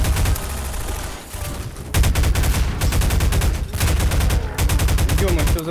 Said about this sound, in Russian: Блин, Гусанёк, извини, по спине чуть-чуть стрельнул.